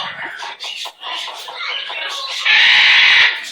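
Pet bird vocalizing close and loud in a series of short squawks and chatter, ending in a sustained harsh screech.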